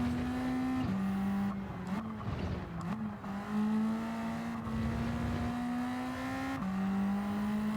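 A Ford Sierra Cosworth RS500 races in a video game, its engine holding a steady drone with brief dips at gear shifts, accompanied by faint tire noise, loud and continuous.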